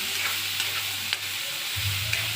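Tofu and bitter gourd (ampalaya) sautéing in a pan give a steady close sizzle with a few sharp spatula taps and scrapes, and a low hum rises near the end.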